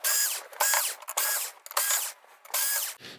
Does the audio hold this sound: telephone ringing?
no